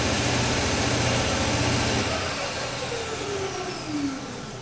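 A disc and belt sander's single motor runs with a loud, steady whir, then it is switched off and winds down over the last couple of seconds.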